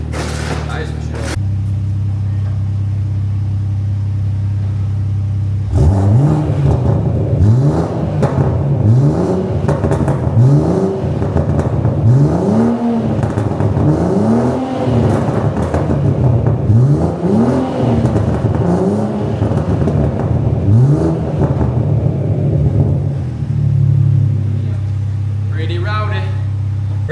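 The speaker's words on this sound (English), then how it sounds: "Let's fire it up, see what it sounds like, shall we? It's a lot deeper, that is for sure." BMW M140i with a custom-fabricated exhaust, tuned to around 600 bhp, starts up close by, then revs repeatedly in deep rising-and-falling sweeps over a steady rumbling idle before settling back down. A voice speaks briefly.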